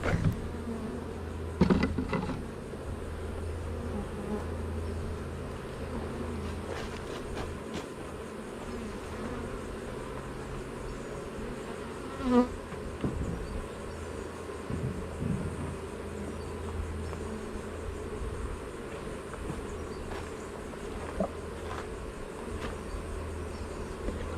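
Honeybees buzz steadily around a beehive on a waterfront, working a bamboo frame and carrying in nectar, a continuous mid-level drone with a few brief louder bumps and clicks close by.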